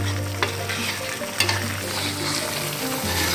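Peanut sambal with blended bird's eye chili and tomato being stirred in a pan over medium heat, a steady close sizzle and fry with scraping stir strokes and a couple of sharper clacks.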